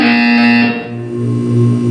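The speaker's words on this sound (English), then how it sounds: "When you hear the buzzer, look down at the floor" A loud, harsh electronic buzzer in the video game Portal 2 blares continuously for about two seconds, its tone shifting slightly partway through.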